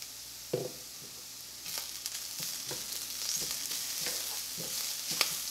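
Cumin, turmeric and salt sizzle and fry in a pan for a Kerala-style French cut green bean thoran, with a steady crackle broken by several scraping stirs of a spoon, close and fairly quiet.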